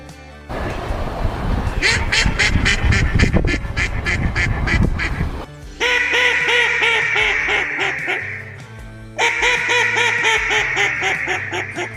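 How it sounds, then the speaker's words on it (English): A real hen mallard duck quacks in a series of loud, repeated calls in flooded timber in Arkansas, one burst following another with short pauses between, close and clear. "First, a real hen mallard"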